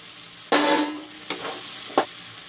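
Potatoes dropped into hot frying masala while cooking egg kosha, a loud sudden sizzle that slowly fades, followed by two shorter bursts of sizzling as more pieces go in, with no talking.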